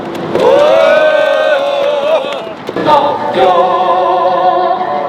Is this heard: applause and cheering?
yes